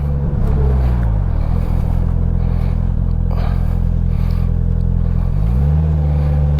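Slingshot three-wheeler driving on a winter road, its mid-pitched engine rumbling loud and steady throughout with a rise and fall in revs near the start and end.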